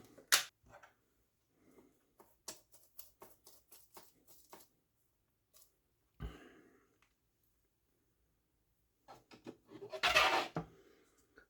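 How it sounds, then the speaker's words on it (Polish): A knife chops fresh salmon on a cutting board in a home kitchen, giving sparse, irregular soft taps and clicks in near silence, with a brief louder scrape and rustle toward the end. "Od razu rozdrobnimy łososia."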